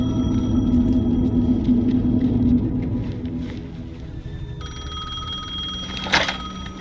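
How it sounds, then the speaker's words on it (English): Payphone ringing in the video game Alan Wake 2, a bright repeating electronic bell that swells in after a low rumbling ambience, with a louder burst near the end. "The payphone was ringing."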